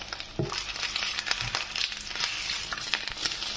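Food searing in a hot frying pan, a steady bright sizzle with occasional crackles and clatter as pieces are turned, no talking.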